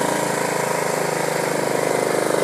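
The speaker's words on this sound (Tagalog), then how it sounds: "may naglilinis kasi yung lawn mower" A lawn mower engine drones steadily and loudly nearby, its rough continuous rumble unbroken throughout.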